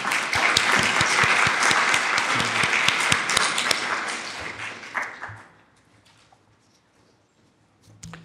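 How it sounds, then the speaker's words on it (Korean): A church congregation applauds during a Sunday service, dense clapping filling the room for about five seconds before fading out into near silence, with a faint sound returning at the very end. "박수로 격려 한번 해주시기 바랍니다."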